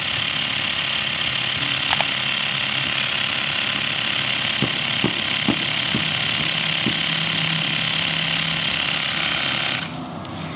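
A portable electric tyre pump inflating a Vespa GTS 300 scooter tyre, a loud, steady, rattling motor buzz close by with a few clicks and knocks, running continuously and then cutting off near the end.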